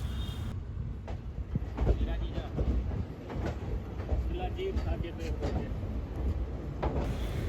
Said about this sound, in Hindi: फाइनली ट्रेन का अराइवल हो रहा है अम्बाला कैंट जंक्शन पर